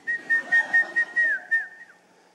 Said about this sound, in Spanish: Silbo y se viene.